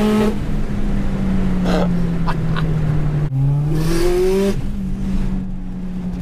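A 500-horsepower Subaru Impreza STI with an external wastegate revs loudly and close, its engine note climbing and falling in sustained pulls with a sharp break midway before surging again.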